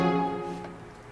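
A brass section from a Spitfire LABS Scary Strings library blares one very loud, dense chord that rings out and slowly decays, with nothing else heard.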